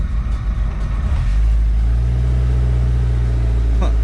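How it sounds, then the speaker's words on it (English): A Jeep Wrangler engine settles into a steady idle after a brief unsettled start, a close, constant low hum that continues alone to the end. "Now we're idling."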